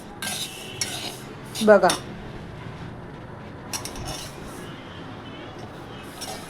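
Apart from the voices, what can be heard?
sesame seeds being stirred while roasting in a pan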